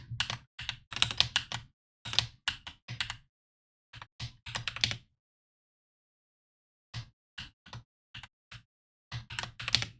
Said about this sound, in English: I don't know why I'm typing it